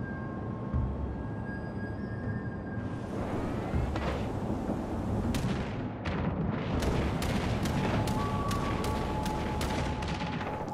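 An enemy carrier bombs a ship during a World of Warships Legends naval battle. Repeated bursts of explosions and gunfire crash over a constant low roar, with a dense run of blasts in the second half.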